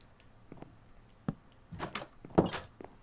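Wooden doors in the video game Minecraft opening during wall and tower building, a sharp knock followed by a cluster of clattering thuds and shuffling clicks over quiet background noise.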